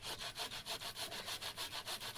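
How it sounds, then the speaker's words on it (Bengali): Ginger scraped on a kitchen grater, quick rhythmic back-and-forth rasping strokes, about a dozen even scrapes close to the microphone with no talk. "লোটা মাছের পরে আদা করনে কুড়ে দিচ্ছি"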